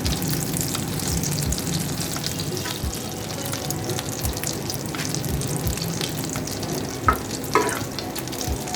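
Chicken shami kababs fry in a pan of oil with a steady, close sizzle and crackle, broken by a few louder pops and scrapes near the end.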